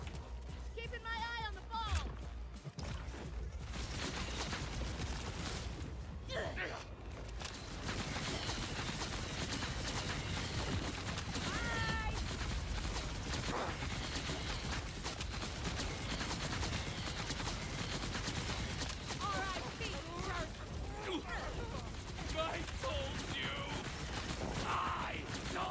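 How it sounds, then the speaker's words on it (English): Rapid gunfire in a shooter video game as a magazine is emptied, with bursts of shots and mechanical clicks running throughout under frequent overlapping talk from players. "Emptying the mag is tedious"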